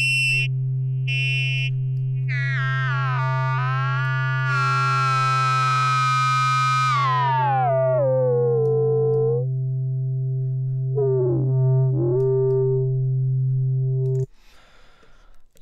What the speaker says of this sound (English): You can sort of see and hear where the feedback is coming in.